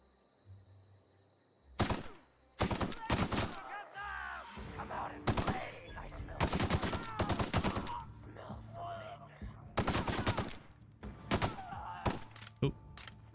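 Rifle gunfire from The Outer Worlds: Spacer's Choice Edition cracks out in a string of sharp, loud shots during a fight with marauders, some single and some in quick clusters, over game sounds and a few grunts.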